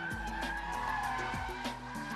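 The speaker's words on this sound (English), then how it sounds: "now you have to catch the slide with the steering, then balance the throttle in order to keep the slide going" A car slides sideways in second gear at full throttle, the engine holding a loud, strained drone with rising and falling pitch sweeps as the throttle is balanced and the tyres scrub through the drift.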